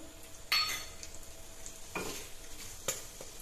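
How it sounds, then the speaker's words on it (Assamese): Bay leaves, cloves, cardamom and cinnamon hit hot oil in a pressure cooker, giving a soft background sizzle. A few sharp clinks and scrapes of a utensil stand out above it, and nobody speaks. "ইয়াতে এতিয়া তেজপাত কেইটা দি দিলোঁ, তাৰপিছত লং, ইলাচি, ডালচেনি কেইটা ইয়াতে দি দিলোঁ"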